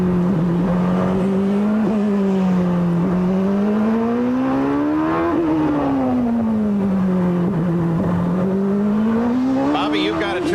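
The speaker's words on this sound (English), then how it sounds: "Well, Paul, he's definitely down a cylinder, and the engine has probably dropped a valve" Nigel Mansell's CART race car at the Long Beach Grand Prix, its engine down a cylinder with a likely dropped valve, drones loud and continuous with rising and falling pitch as it runs through the turns.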